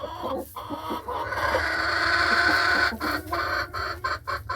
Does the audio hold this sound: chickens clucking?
yes